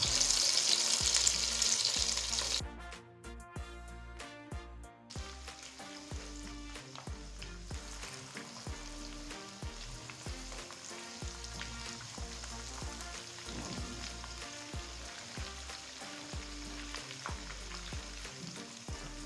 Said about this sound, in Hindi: इसको हमने फ्राई करना है जब तक ये गोल्डन ब्राउन हो जाएंगे और क्रिस्पी हो जाएंगे।